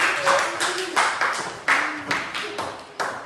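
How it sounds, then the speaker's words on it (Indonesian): A class of students claps in uneven bursts during a physical education lesson, with a few sharp taps and pings mixed in, the claps loud and close. "tepuk tangan untuk kelompok terakhir"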